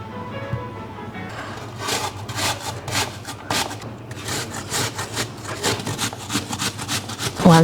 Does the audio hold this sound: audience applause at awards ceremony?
no